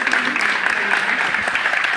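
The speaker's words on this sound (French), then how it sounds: "je voudrais qu'on l'applaudisse parce que c'est vraiment très bien" Audience applause at an art and fashion exhibition, a steady, fairly close round of clapping from a modest crowd lasting the whole moment without a break, with faint voices mixed in.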